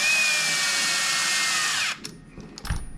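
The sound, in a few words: power tool driving screws into RC chassis links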